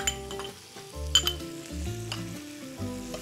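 Chopped onions with green and red peppers sautéing in a pan give a steady sizzle with scraping stirs, under a melodic backing tune.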